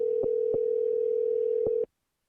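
Steady telephone dial tone on a call to clearance delivery at Auburn, Maine, interrupted by three brief clicks and cut off abruptly after about two seconds, clear and moderately quiet, with no talking.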